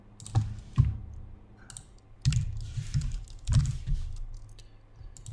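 Typing on a computer keyboard: close, uneven bursts of key clicks and thumps with short pauses between clusters of keystrokes, and no voices.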